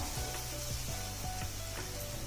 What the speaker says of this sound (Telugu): ఈ కారాన్ని వేసిన తర్వాత ఈ విధంగా కలుపుతూ ఒక్క నిమిషం ఉంచుకుందాం